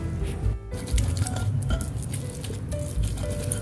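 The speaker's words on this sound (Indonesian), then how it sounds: "Lanjut kita ulek, lakukan sampai semuanya" Sambal teri Medan chili paste, with anchovies and boiled ingredients, is ground in a stone mortar with a pestle, giving soft, continuous squishing and mashing strokes up close, with occasional faint clinks and no talking.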